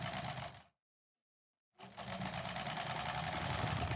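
Sewing machine stitching quilt blocks together, running in a steady near burst, stopping for about a second, then starting again and running continuously.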